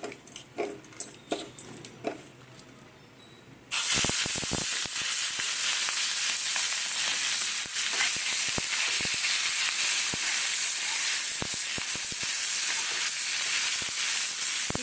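Prawns drop into hot oil already used for frying taro and potato, and a loud, dense close sizzle bursts up and holds steadily, following a few quieter clinks and taps before.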